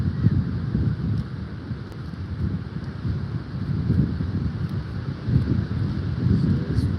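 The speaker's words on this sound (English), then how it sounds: "So it's windy. It's super windy out here" Steady low rumbling wind buffets the microphone outdoors, gusting a little louder now and then, with no voices.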